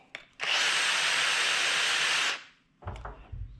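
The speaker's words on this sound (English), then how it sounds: "we machine down the head of the bolt so it will now clear the nylon block in the centre" A portable battery lathe spins a bolt head while a file machines it down, giving a single loud, even whirring grind of about two seconds between short clicks and handling knocks.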